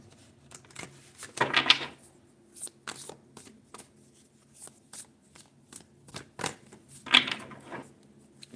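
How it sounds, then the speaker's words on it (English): Tarot cards are shuffled by hand in repeated bursts of quick riffling and soft slaps, with two longer crisp riffles standing out against a quiet room. "So let me shuffle it a little differently."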